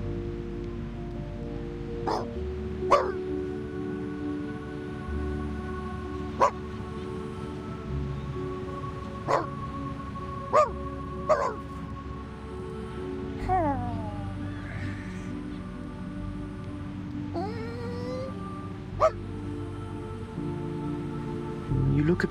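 A small puppy in the Reverse: 1999 video game lets out a few soft, wavering whimpers and short whines, scattered across a long stretch of quiet looping game music with occasional sharp clicks.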